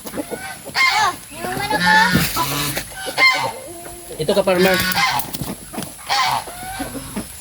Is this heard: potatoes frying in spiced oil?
no